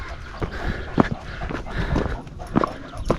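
An excited German Shepherd on a mountain trail up Skrzyczne peak gives repeated close whines and yelps in uneven bursts over outdoor background noise.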